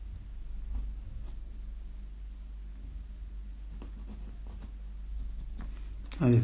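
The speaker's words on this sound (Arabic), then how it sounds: "ألف الطاء، أكتب بقلم أكبر قليلا حتى ترون" A calligraphy pen scratching Arabic naskh letters onto paper, including the alif of the letter ṭāʾ, with soft intermittent strokes over a low steady hum and a louder scrape at the end.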